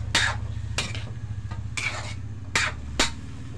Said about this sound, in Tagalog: Then, haluin natin muna guys.